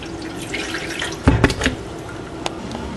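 Rice washed in water in a sink, a running faucet and liquid swishing under a soft steady wash, with a short burst of louder splashing near the middle and a brief drip later.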